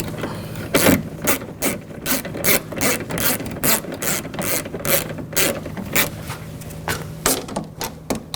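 A hand ratchet tightens bolts while a front window motor is replaced in a 2000-2006 BMW X5. It gives a steady series of loud, close clicking strokes with short pauses between pulls, and no voice is heard.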